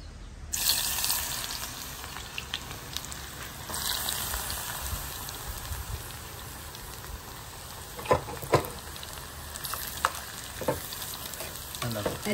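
Eggplant frying in hot oil in a home kitchen, a steady close sizzle and crackle with occasional stirring clatters and louder pops, and no one talking.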